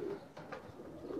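A pigeon at a Pakistani fancier's loft gives one brief, soft coo, close by and alone.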